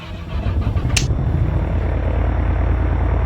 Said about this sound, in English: and let's fire up. Clear the prop.